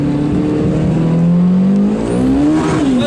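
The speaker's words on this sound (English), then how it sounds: "Good, lots of wheel spin." A 1990s Japanese all-wheel-drive car accelerates hard in first gear with its wheels spinning, the engine note loud and close, climbing and wavering as revs rise, with no talk.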